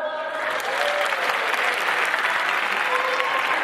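An audience claps continuously and loudly after a university opening performance at a Thai luk thung singing contest, a dense, even wash of applause.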